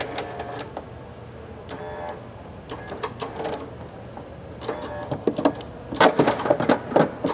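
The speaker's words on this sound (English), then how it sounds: "Just press that button, feeds it back in." Motorized reel on a 2021 Interstate Grand Tour RV drawing a hose back in at the push of a button, a steady mechanical whir with rhythmic clicking and rattling that builds toward the end, no talking.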